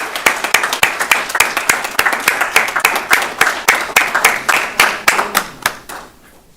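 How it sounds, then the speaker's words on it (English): A small audience claps for an honoree at a school district superintendent's citation ceremony, a steady round of distinct hand claps, fairly close, that tapers off near the end. "give her a nice round of applause"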